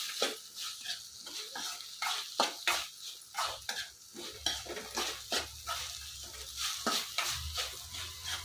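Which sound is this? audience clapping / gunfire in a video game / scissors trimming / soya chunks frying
soya chunks frying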